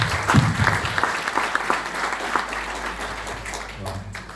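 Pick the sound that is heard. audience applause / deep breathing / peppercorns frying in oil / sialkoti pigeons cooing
audience applause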